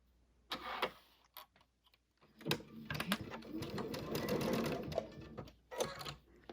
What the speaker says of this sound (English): I'm going to go ahead and start my seam.